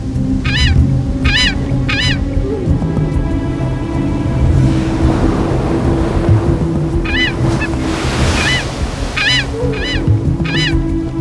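Frigate birds and boobies at a seabird colony give repeated harsh honking calls in short bursts, close by, over a steady rush of surf and wind.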